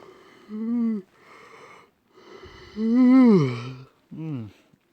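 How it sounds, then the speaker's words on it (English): A long, drawn-out yawn with a rising then falling voiced groan, followed by a shorter trailing yawn sound, close to the listener. "Sorry about that, I had to yawn."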